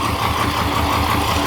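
A car engine held at raised RPM in a garage gives a steady, loud, continuous mid-pitched roar for a short moment, with no voices over it.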